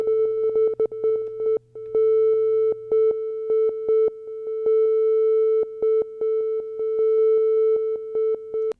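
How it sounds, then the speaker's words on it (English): A steady sine tone with sample-and-hold tremolo pulses in rapid, uneven choppy bursts, its loudness jumping irregularly, heard alone with no voices. "the sample and hold frequency circuit. Here on the sine tone."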